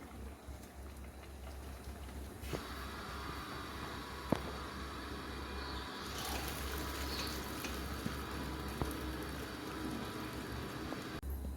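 Boiled vegetables for Kerala avial poured into a strainer, a soft steady hiss of draining water with light clinks of the vessel, faint and continuous with no talk.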